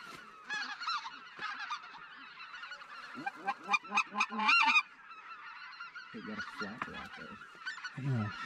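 Snow geese and specklebelly geese honk in flight during an early-season hunt, with many overlapping calls coming in bursts, loudest midway through, then calling again at a distance.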